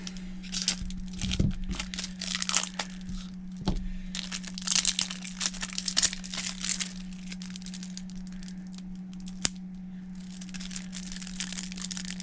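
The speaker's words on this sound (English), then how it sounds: "Plastic always never wants to really come off." Stubborn plastic shrink wrap crinkles and tears as it is peeled off a Yu-Gi-Oh dragon deck, in close, continuous rustling bursts over a steady low hum.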